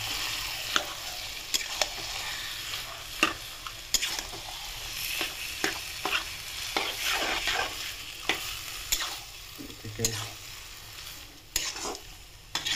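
Duck meat frying in a pan while being stirred, a soft continuous sizzle broken by repeated scraping and clinking strokes of the spoon against the pan at an uneven rhythm, with no one talking.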